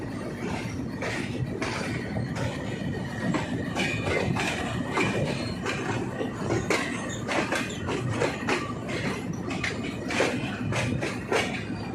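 Fareed Express passenger train of Pakistan Railways rolls out of Lahore Junction with a steady, loud rumble and continuous clattering of wheels over rail joints, lasting throughout.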